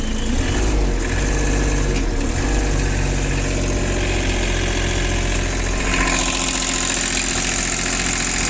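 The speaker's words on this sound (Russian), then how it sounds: "достаточно ровная и без посторонних призвуков экскаватор продолжает работать" A heavy diesel engine of a Japanese excavator idles steadily up close, a constant low rumble with a slight shift in tone near the end.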